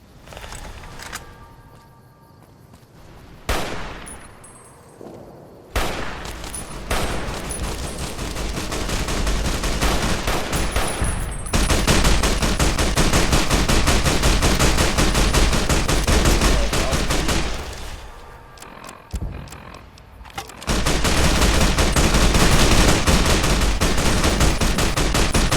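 Repeated sniper rifle fire and other gunshots in Fallout New Vegas during the second battle for Hoover Dam, loud sharp cracks with sustained gunfire and explosive rumble stretching through most of the stretch, no talking.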